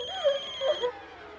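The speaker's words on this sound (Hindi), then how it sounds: "कमिश्नर साहब का फोन आ रहा है, मदद करो मेरी जल्दी से।" A telephone ringtone from a Hindi TV drama plays a short melodic phrase of rising and falling tones, clear and close, then cuts off abruptly with no voices.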